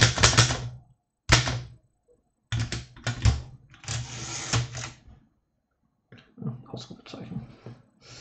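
Typing on a mechanical typewriter, bursts of loud, close keystrikes and clacks separated by short pauses, with a few rattling carriage sounds.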